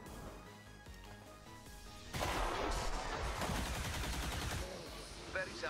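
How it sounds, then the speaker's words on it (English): Cannons firing in the XCOM 2 video game: a burst of rapid, overlapping heavy shots erupts after a quieter stretch of game sound, loud and sustained for a few seconds before easing off. "You're gonna get close encounters with my cannons here."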